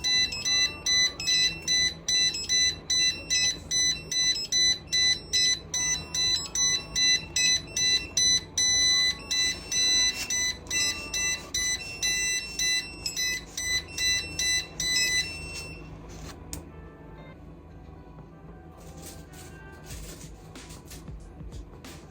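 A Mocreo water leak sensor alarm beeps in a rapid, loud repeating pattern for about fifteen seconds, then drops away to quieter intermittent tones.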